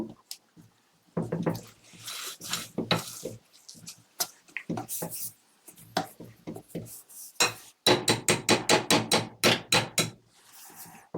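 Whisk working a thick oat-lentil bread dough in a bowl, producing irregular bursts of sticky slapping and tapping strokes, then a fast even run of rhythmic beats near the end, close and fairly loud.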